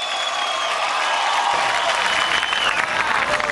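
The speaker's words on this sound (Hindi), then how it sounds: "श्री अमिताभ बच्चन जी के लिए जोरदार तालियां" A large crowd at the Max Stardust Awards 2011 breaks into loud, sustained applause for Amitabh Bachchan, a dense, even wash of clapping with faint cheers that holds for several seconds.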